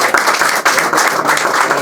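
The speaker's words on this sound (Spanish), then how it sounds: "un aplauso" Applause from an audience at a philosophy lecture in a university philosophy school, dense steady clapping that fills the room at close range and continues without a break.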